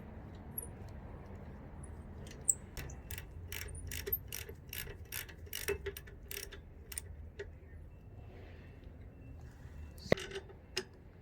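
Brake caliper bracket bolts on the rear brakes of a Nissan Elgrand E51 being snugged up with a ratchet, giving a quick run of close, crisp clicks that pause and resume in short bursts.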